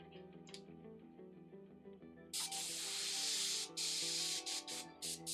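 An airbrush sprays yellow paint in a bright, steady hiss that starts abruptly after a quiet stretch, runs for about a second and a half, then returns in shorter bursts, close and clear with no talk.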